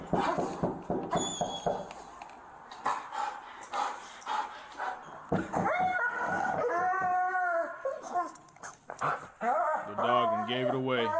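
A police dog barks and howls in drawn-out, rising cries near the end, amid loud, busy talk from several people.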